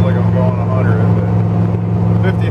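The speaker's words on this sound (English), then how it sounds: "Of course, the exhaust, it sounds like I'm going 100" A Dodge Dakota pickup with a loud exhaust cruises at about 50 mph with overdrive not working, engine at 2600 RPM; a steady low droning rumble fills the cabin throughout, with a voice talking over it.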